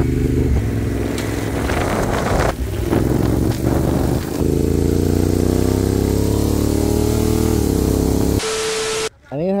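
Honda NT1100 motorcycle engine running steadily and loud up close, with a rising hum as it revs, broken by brief dips and clunks before cutting out near the end.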